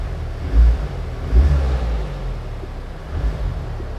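A 2023 Honda Civic Type R FL5 coming off a cold-start idle, its engine giving low, rumbling blips of revs in a couple of brief surges over a steady idle hum, close by with no talking.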